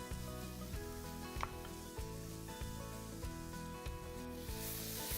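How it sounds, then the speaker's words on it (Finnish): Bacon frying in a pan alongside pumpkin, a steady close sizzle running throughout with no voices, over a repeating musical backing. "Pekoni alkaa olla paistunut"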